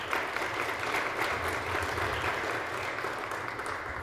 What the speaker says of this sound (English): So how about a round of applause for that?